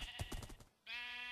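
Sheep in the video game Minecraft bleat in a few quick repeated calls, close and clear, followed by a brief pause and then one sustained, steady bleat.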